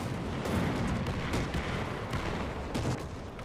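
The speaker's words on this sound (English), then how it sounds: "let's drop some artillery on" An artillery strike in the War Thunder video game, heard as a string of loud, rumbling booms and bursts, several close together with short gaps between them.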